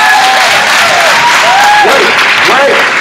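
Loud, dense clapping from a conference audience fills the space continuously, with scattered cheers and whoops rising over the steady applause.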